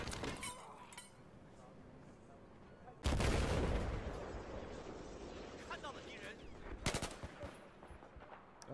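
Battlefield 4 gunfire, with sharp, loud bursts around mid-clip and again near the end over quieter background game noise, while players talk.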